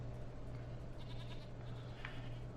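Goats bleat in the video game Jade Empire: a couple of faint, brief calls over a low, steady background hum, quiet and somewhat distant.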